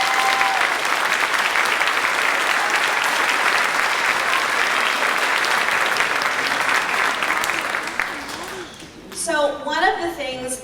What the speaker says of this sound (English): Round of applause for these people.